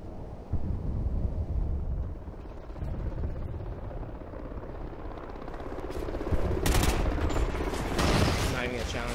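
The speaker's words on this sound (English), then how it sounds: "I'm getting shot from somewhere." Video game gunfire from Call of Duty: a steady roar of rapid shots and mechanical noise, with louder bursts late in the clip, heard close and without talking.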